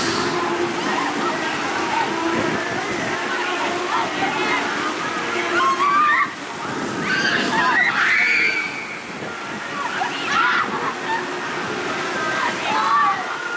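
Water splashes and sloshes continuously on the Riptide flat ride at Canada's Wonderland amid loud ride and crowd noise, with voices in the background.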